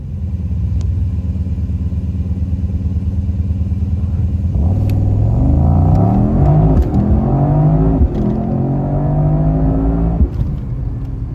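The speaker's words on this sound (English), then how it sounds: "Going into a race start here in race mode," A 2024 Mercedes-AMG GT63 in race mode doing a launch start: a loud idling rumble builds into a hard-revving engine climbing through rising pitch with gear shifts, heard close from inside the car.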